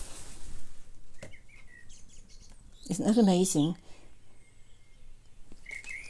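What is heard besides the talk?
blackbird song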